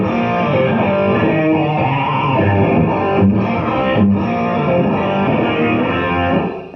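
A rapid electric guitar melody weaving quick in-between pivot notes around chords, played with a distorted rock tone in a 1980s style, continuous and loud with no talking.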